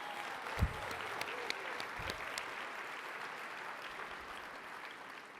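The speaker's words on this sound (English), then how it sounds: "How about a round of applause for yourselves" Steady applause from a large conference audience at a main-stage event fills the space, a dense even wash of clapping held throughout with a few brief thumps near the start.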